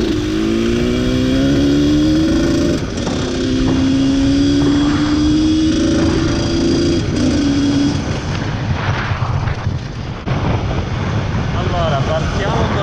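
A Husqvarna SM 125 motorcycle with its stock exhaust revs loudly and close by, its engine note climbing in pitch over several rising pulls before settling into a rougher, uneven idle and throttle blips.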